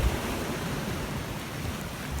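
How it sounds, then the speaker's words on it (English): Ocean waves wash against the rocks at Cinque Terre on a warm evening, a steady broad roar of surf with wind noise, continuous and fairly close, with no talking. "You can hear the waves and see the rocks"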